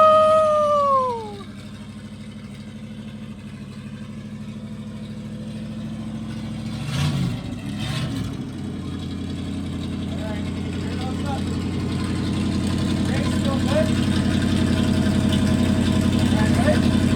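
A 1979 Ford Bronco engine idles steadily inside a garage, a loud, even low rumble throughout. A howling, dog-like voice opens it, with a couple of brief knocks partway through.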